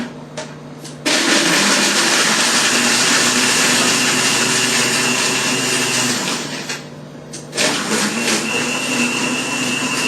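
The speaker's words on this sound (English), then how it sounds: "Blender." A countertop blender whirs loudly as it crushes ice into a margarita for a New Orleans cocktail, a steady roar that starts after a brief lower run, dips near the end and then surges again.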